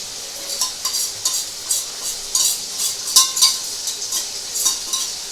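Masala paste for mutton liver frying in a pan, with soft sizzling and repeated clinks and scrapes of a spoon stirring against the metal at an irregular rhythm, close and alone.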